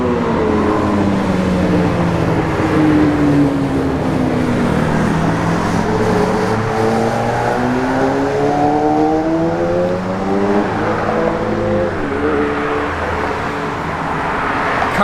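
A 1964 Chevrolet Impala driving on the road, its engine droning steadily and loudly throughout as the pitch rises and falls through gear changes.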